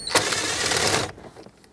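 A ratchet or driver loosening a 7mm bolt on interior trim of a 2008-2010 Ford F-250, a close burst of rapid clicking that stops abruptly after about a second.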